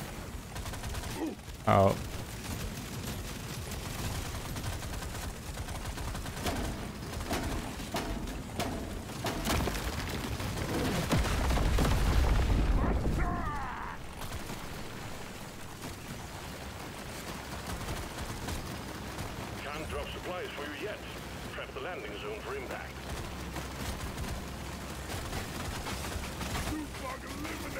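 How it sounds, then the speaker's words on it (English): Rapid automatic turret fire in the Deep Rock Galactic: Survivor game, a dense crackling barrage running throughout alongside other game effects, swelling loudest midway, with a brief spoken exclamation. "Mining turrets coming in handy after all."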